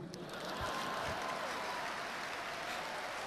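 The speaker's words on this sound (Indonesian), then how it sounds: "Kalau tepuk tangan jangan ragu-ragu." A seminar audience breaks into applause, a broad, continuous roar of many hands clapping at moderate volume, steady for the whole stretch with a faint murmur of the crowd.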